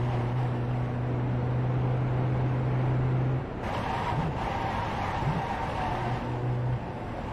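Engine of a VW Jetta TDI race car pulls under throttle in iRacing at Virginia International Raceway, a steady loud drone that shifts in tone partway through, with no talking.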